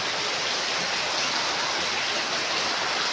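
Floodwater rushes along a flooded spot after heavy rain, a steady, dense wash of noise that stays loud and unbroken from start to finish with no voices.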